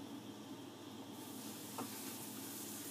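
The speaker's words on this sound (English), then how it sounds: "And you want to hear it sizzle like that." Chicken sizzles in hot oil, a steady, close hiss that grows fuller partway through and carries on without any talking.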